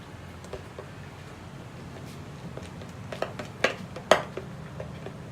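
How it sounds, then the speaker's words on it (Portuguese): Small clinks and taps of a utensil against a container as borax is stirred into a mini slime, scattered soft scrapes with a few sharper clicks near the end, fairly quiet and close. "eu tô colocando o bórax e mexendo o mini slime"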